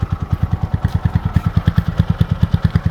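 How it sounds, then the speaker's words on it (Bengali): A TVS Apache 4V 160cc motorcycle engine idles close up with a rapid, even thumping rhythm, loud and steady throughout, no voices. "আমি আপনাদেরকে বাইকটির সাউন্ড কোয়ালিটি একটু দেখে দিই"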